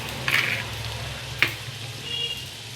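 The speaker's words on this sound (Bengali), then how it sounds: "গুড়টাকে দিয়ে ভালো করে মাখিয়ে নেব আমলকির সাথে" Grated jaggery being stirred into amla pickle in an oiled pan, a soft continuous sizzle with a couple of scraping spatula strokes against the metal.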